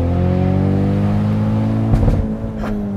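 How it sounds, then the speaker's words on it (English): A 2023 Ford Mustang EcoBoost High Performance Pack convertible with a 2.3-liter four-cylinder is held against the rev limiter in second gear, giving a loud, steady high-rpm drone that stutters and dips briefly as it bounces off the cutoff. "So I'm gonna bounce it off the limiter because it's kind of fun in second."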